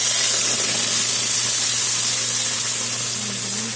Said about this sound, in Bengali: এখন কালো জিরা সম্বার দিয়ে পেস্টটা দিয়ে দেবো